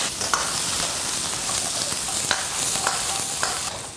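Blanched pork ribs stir-frying in a little oil in a wok for sweet and sour ribs, a continuous close sizzle with occasional scraping and clinks of the spatula, no talking.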